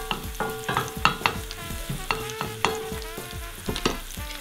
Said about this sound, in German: sobald das hier anfängt zu braten, rühren wir das mal gut um